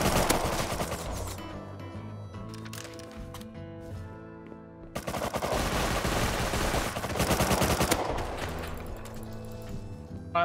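Bursts of AK rifle fire in the survival game Rust, rapid loud volleys in several clusters with short pauses between them, no talk over the shooting.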